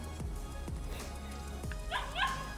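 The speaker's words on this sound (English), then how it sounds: "we got big dogs coming in now too" Several dogs, including big ones, give short barks and excited yips at moderate distance, with a few higher whimpering calls near the end over steady room noise.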